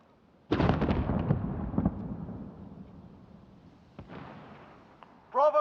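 A grenade goes off in an online military shooter during a team push toward a checkpoint: a loud sudden boom with a rumbling tail that fades over a few seconds, followed by a short sharp crack and a brief burst of game noise.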